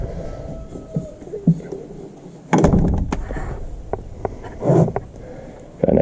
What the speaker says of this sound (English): Got a nice door, opens and closes.